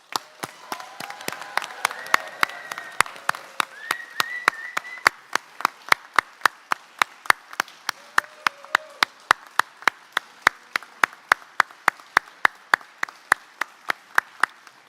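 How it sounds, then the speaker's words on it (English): An audience at a Class of 2025 graduation ceremony applauds the graduates, with sharp, evenly paced claps standing out steadily for the whole stretch over a softer bed of crowd noise. "Please join me in applauding the graduates."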